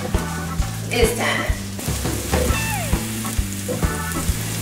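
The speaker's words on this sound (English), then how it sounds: "I let my onions saute." Onions and garlic sauteing in a pan, a steady close sizzle and crackle with a few stirring clinks, and some speech heard faintly in the background.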